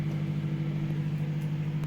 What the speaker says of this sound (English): put it in the microwave for 3 minutes